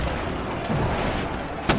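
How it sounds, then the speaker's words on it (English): A steady dull rumble with low, muffled booms rolling through it, followed by a brief sharper crack near the end. "And from the other ships, you hear muffled explosions."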